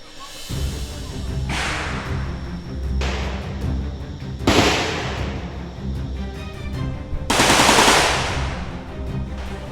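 Gunfire rings out at the Cu Chi Tunnels shooting range in Vietnam, with loud, close rapid bursts from an automatic weapon separated by pauses and echoing behind each burst.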